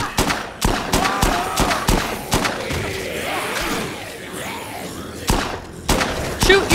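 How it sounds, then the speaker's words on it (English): Gunfire in Dead Rising 2, a burst of sharp shots at the start and end with a tense stretch of crowd and game noise between, loud and close. "I'm shooting a gun here"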